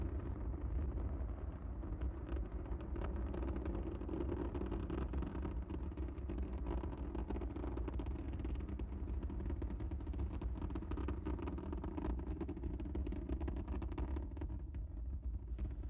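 Space Shuttle Atlantis's three main engines on the STS-44 launch climb, a steady, dense low roar that rumbles without a break throughout, with no voices over it.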